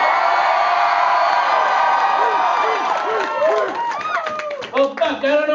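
A concert crowd at Oran Mor in Glasgow keeps cheering and clapping in a loud, continuous roar, with whoops and yells breaking through near the close as the applause becomes more ragged.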